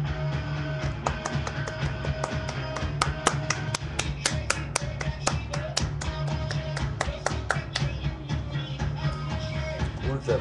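A small group claps in a loose, uneven rhythm, sharp individual hand claps ringing out close by, building in the middle and thinning toward the end, with a steady hum underneath.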